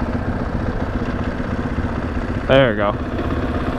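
A 2021 KTM 500 EXC engine idles steadily in neutral, a low continuous motor drone running underneath, while a person speaks briefly near the end.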